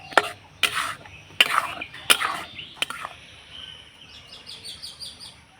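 A spoon stirs semolina dough in a pan over low heat, giving a few sharp, close scraping knocks at irregular intervals, followed by faint bird chirps in the background.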